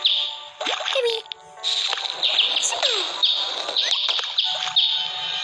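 Baby bird chirping in the video game Boku Boku: rapid, high, sweeping tweets and chirps in quick bursts, loud and close, with faint low background noise beneath.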